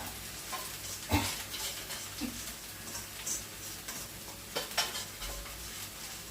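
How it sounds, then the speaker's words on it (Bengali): Leafy greens stirred and sizzling in a pan on the stove, with soft frying hiss, faint scraping and occasional utensil taps against the pan, quiet and steady with no talk. "শাকটা রান্না করেই নিচ্ছি।"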